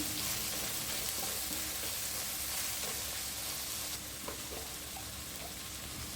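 Soft, steady sizzling of tomato and green chillies frying in a pan, with faint occasional scrapes and clinks of stirring throughout.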